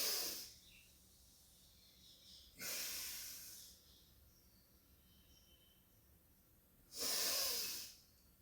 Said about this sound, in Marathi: श्वास सोडायचा आहे. ब्रीद आउट.